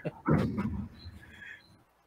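A dog at home lets out a short burst of barking and yelping that quickly fades, with a faint high whine trailing afterward and no talking over it.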